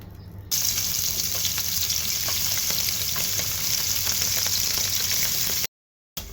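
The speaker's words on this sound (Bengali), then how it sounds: "মাছগুলো ভাজা হয়ে গেছে" Fish seasoned with salt and chili powder frying in oil in a pan, giving a loud, steady, close sizzle that runs without a break and then cuts off abruptly near the end.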